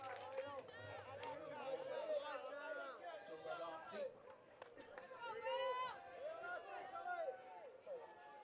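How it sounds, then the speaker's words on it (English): Spectators at a men's softball game, Nova Scotia versus Quebec, shout encouragement in overlapping calls and chatter, moderately distant but clear across the whole stretch. "Lots of shouts of encouragement from the Nova Scotia crowd."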